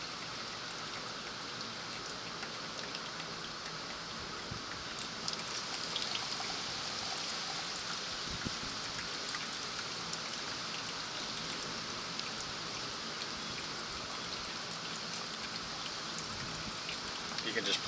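Water trickles slowly over coffee grounds for trail coffee, giving a continuous soft, hissing drip and splash that stays steady and close throughout.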